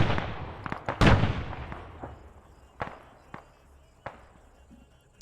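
Artillery ranging shot in a video game: a loud, sharp blast rings out near the start, followed by several fainter distant cracks and thuds spaced across the rest.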